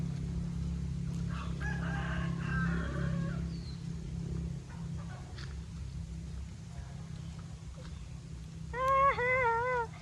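Rooster crowing once near the end, a loud, close, drawn-out call in a home vegetable garden, following a quiet stretch with a low steady hum and brief faint voices.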